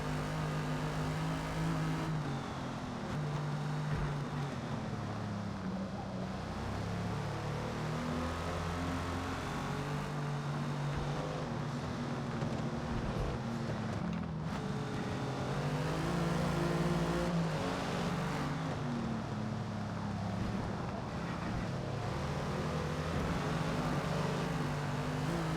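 A race car's engine drones loudly and continuously, revving up and down through gear changes as it brakes into corners and accelerates back out, heard from on board with no talk.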